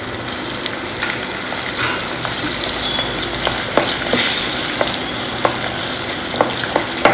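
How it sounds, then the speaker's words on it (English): Karonda pieces fry in hot oil with mustard seeds for a South Indian pickle, a loud, continuous sizzle close up, broken by occasional sharp pops and stirring clicks. "And just fry it in the oil."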